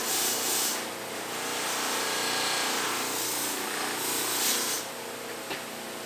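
Stainless steel trim on a car being polished by hand or machine, a steady broadband rubbing hiss that runs continuously with slight swells in intensity, close and fairly loud, with no talking.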